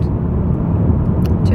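Steady low road rumble and engine drone from inside a moving car, continuous and fairly loud, with a few faint higher noises over it.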